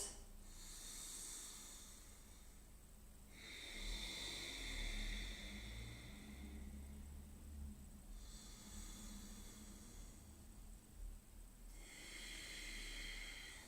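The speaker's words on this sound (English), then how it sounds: "Those of you who use the Ujjayi breath, make sure you bring the breath in now into that ocean" Slow, rhythmic ujjayi ocean breathing during a slow-flow yoga practice, with the back of the throat contracted to give each long inhale and exhale a soft, close, airy hiss; three or four full breaths in steady succession with no talk.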